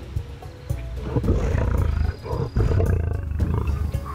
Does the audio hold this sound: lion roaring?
yes